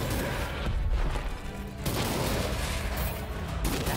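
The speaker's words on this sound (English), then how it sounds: "Dude, this shotgun's insane." Shotgun blasts in the first-person wizard roguelite Ziggurat 2, a few heavy booms with abrupt cutoffs sitting in a busy, moderately loud game mix.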